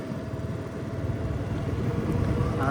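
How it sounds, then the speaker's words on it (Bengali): A motorcycle rides along a road in Bangladesh, its steady engine drone close and continuous, rising slightly in loudness toward the end. "আমি আবার ডান হাত দিয়ে আবার বাইক চালাইতেছি"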